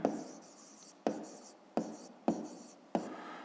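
Close, quiet pen strokes on paper while writing out a fifth-grade math solution: five crisp taps, each trailing into a soft scratch.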